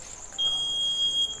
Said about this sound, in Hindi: जैसे ही मैं जाऊँगा यहाँ पर हमारा अलार्म बजना स्टार्ट कर देगा